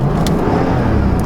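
A Porsche 718 Boxster GTS 4.0 open-top sports car with its engine running, heard as a loud, close, continuous deep rumble and drone that stays steady through the short stretch, with no speech.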